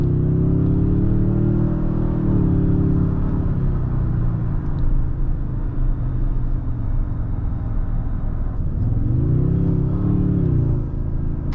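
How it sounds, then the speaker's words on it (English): A 2024 Toyota Tundra Capstone pickup engine hums low and steady from inside the cabin, its pitch swelling gently twice as it comes on after EV mode and picks up. "And then you can hear the engine just gently come on after."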